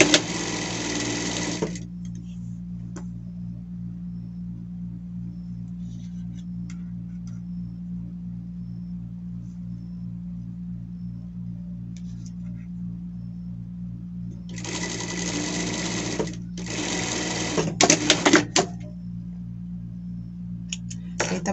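Sewing machine hemming the pockets of a denim shirt, running in a few separate bursts: one at the start, a longer one later, then short stop-start runs over a steady low hum.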